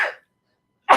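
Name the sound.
sneeze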